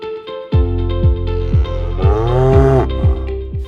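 A Murrah buffalo in Haryana gives low, drawn-out moos, loud and close, with a deep droning call that swells in the middle and rumbles in the same even rhythm throughout.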